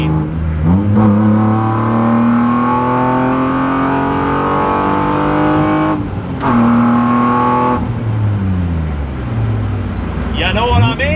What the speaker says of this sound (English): you're still driving a loud E36